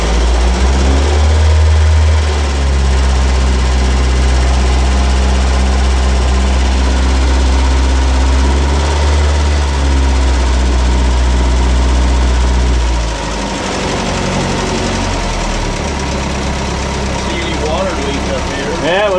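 A 1935 Chris Craft Model B boat's Hercules 4-cylinder 60 hp marine engine idles loudly and steadily up close, its low throbbing hum shifting slightly in pitch, with people talking faintly over it.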